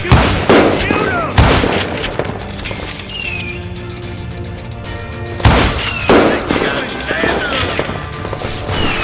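Gunshots in the Western shooter Call of Juarez Gunslinger, two loud close blasts several seconds apart, each followed by ringing and scattered echoing shots, with a voice shouting between them.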